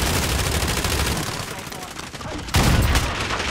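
Call of Duty Warzone gunfire rattles in dense automatic bursts, loud and close, with a heavier burst near the end and a voice faintly underneath.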